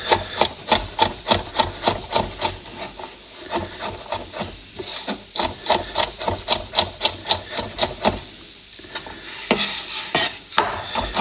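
A sharp knife chops chili con carne ingredients on a wooden board, giving a fast, steady run of crisp knocks that thin out briefly before resuming, close and loud with no talking.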